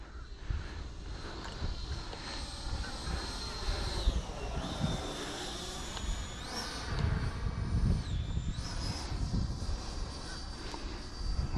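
An E-flite Viper 90mm EDF model jet in flight gives a continuous high-pitched ducted-fan whine that rises and dips in pitch as it passes, over gusting wind rumble.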